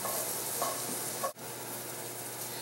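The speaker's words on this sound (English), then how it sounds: "while our stir fry is cooking up" A stir fry of vegetables sizzles steadily in the pan during home meal prep, with a constant hiss at moderate level and one brief dip partway through.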